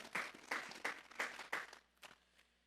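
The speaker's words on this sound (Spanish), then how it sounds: "Vamos a darle un fuerte aplauso al Señor esta tarde." Church congregation at a Sunday afternoon service gives a few rhythmic bursts of clapping, about five strong pulses roughly half a second apart, then fainter, thinning claps as it dies away; fairly quiet overall.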